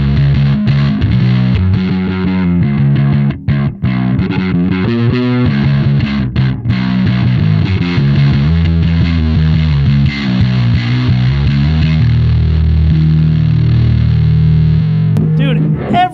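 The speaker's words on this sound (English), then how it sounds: "I'm going to just kind of sweep through the distortion on this." Loud, heavily distorted electric guitar chords through a Big Muff fuzz pedal ring out continuously, the fuzzy tone shifting in grit and texture as the distortion is swept.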